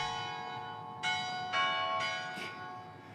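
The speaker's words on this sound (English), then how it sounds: "That classic bell to indicate that it's 6:14 a.m." A church bell in a European town striking at dawn, four clear ringing strokes about half a second apart, each with a long shimmering decay, heard at moderate distance in a quiet setting.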